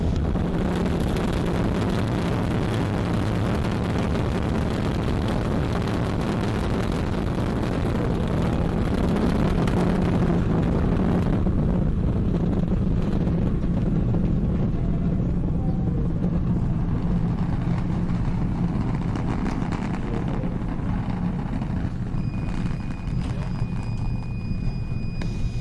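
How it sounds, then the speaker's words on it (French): An Ariane rocket, flight VA 244, ignites its two solid boosters and lifts off, a constant, heavy, broadband roar that fills the whole stretch without a break. "Allumage des deux EAP et décollage VA 244."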